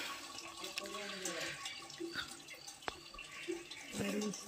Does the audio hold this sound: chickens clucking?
no